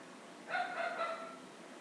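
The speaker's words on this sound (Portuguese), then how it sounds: "o nosso ator não convidado está latindo ao fundo do vídeo novamente" A dog barks in the background during a cookie-decorating session with cherry-themed biscuits, a short cluster of faint, distant barks lasting under a second against a quiet room.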